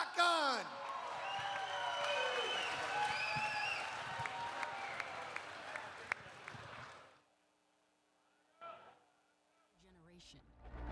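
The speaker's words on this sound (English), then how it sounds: "Give her a round of applause." A crowd at an MMA event applauds and cheers a fight winner, with loud, steady clapping and whoops under an announcer's voice, then a sudden drop to near quiet and a few brief sounds.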